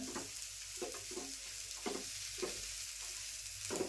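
Fresh green peas sautéed in a pan for matar kachori filling, a soft steady frying hiss with regular spatula scrapes and taps repeating every half second or so.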